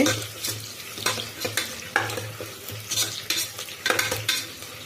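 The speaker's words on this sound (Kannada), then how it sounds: "ನಾನು ಚಚ್ಚಿಟ್ಕೊಂಡಿರೋ ಶುಂಠಿ ಮತ್ತು ಬೆಳ್ಳುಳ್ಳಿ ಮತ್ತು ಹಸಿಮೆಣ್ಸಿನ್ಕಾಯಿ ಇದು ಸ್ವಲ್ಪ ಫ್ರೈ ಆಗಲಿ" Crushed ginger, garlic and green chilli fry in a pan over already-browned onion for a chicken gravy, with brisk, repeated spatula scrapes over a constant sizzle and no talking.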